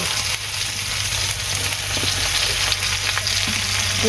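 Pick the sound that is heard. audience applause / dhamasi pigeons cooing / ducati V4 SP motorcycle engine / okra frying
okra frying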